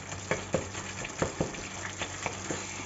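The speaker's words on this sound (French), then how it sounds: "on réduit les petites boules s'il y en a qui se sont formées, les petites boules de viande pour que ce soit bien haché" Ground meat cooking in a pan for lasagne is broken up with a utensil, giving a steady sizzle with a series of soft scraping taps about every quarter second.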